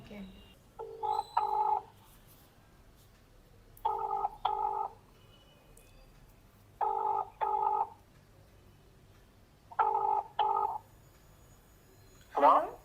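A phone's ringback tone, four double rings spaced evenly apart against quiet background hiss, ending with a brief sound.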